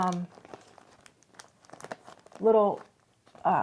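A small bag is handled up close, giving scattered crinkling and rustling bursts between stretches of a woman's speech.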